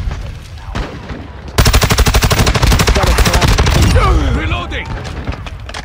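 Rapid automatic gunfire from an STB 556 rifle in the game Modern Warfare 2, loud, dense and sustained for several seconds, with other game effects and a voice briefly around it.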